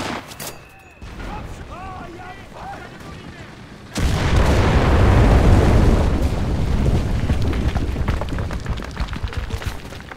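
A bomb detonates in the World War II shooter Enlisted, a sudden heavy blast midway that becomes a long, loud rumbling roar; a voice is heard speaking before it.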